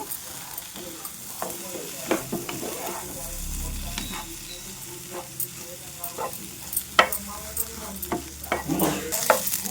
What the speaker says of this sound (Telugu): ఈ ముక్కలు వేసిన తర్వాత చక్కగా ఈ మసాలా అంతా కలిసేలాగా చక్కగా ఇలా కలుపుకోవాలి